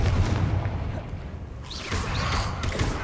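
Booming spell blasts from Confringo and Bombarda in Hogwarts Legacy burst in a rough series of thuds and cracks over rumbling combat noise, with no speech over them.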